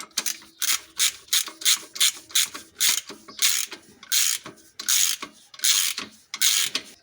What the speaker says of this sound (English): So tighten now the clamp all the way. It is by feel. I'm using a spark plug wrench